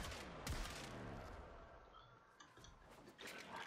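Weapon fire in the sci-fi shooter Warframe, a few sharp shots and mechanical clatter spaced unevenly over a busy game background, with no voices.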